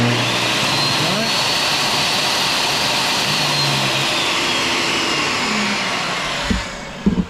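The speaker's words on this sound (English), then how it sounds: "the table saw will turn on" An electrician's table saw runs together with a shop vacuum, giving a loud, steady whining roar that holds constant before a few sharp knocks near the end, while cutting plywood mounting boards for electrical panels.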